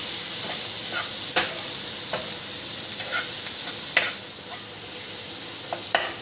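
Pav bhaji being stirred in a hot pan with kasuri methi and pav bhaji masala: a steady sizzle with occasional scraping spoon strokes against the pan, close up, with no voices.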